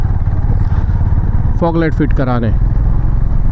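A Honda CB350 motorcycle rides along with a steady, close engine drone throughout, while someone speaks briefly over it partway through.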